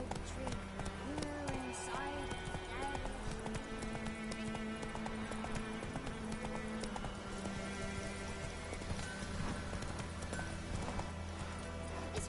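Hooves of the horse Roach clip-clop at a steady gallop in The Witcher 3 on PS4, with occasional neighs and whinnies, sitting over continuous game music and a talking voice.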